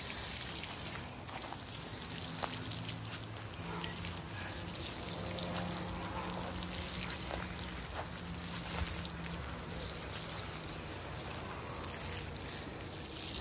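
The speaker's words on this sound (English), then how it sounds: "now I'm getting ready to water them in." Water poured onto a newly planted garden row, a soft, continuous trickle and splash that runs steadily throughout, fairly faint, with a low background hum and no talk.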